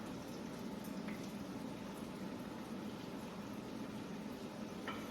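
Chopped onion sizzling in a pan that is not yet fully hot, a steady, faint bubbling hiss with a few soft crackles, no talking over it.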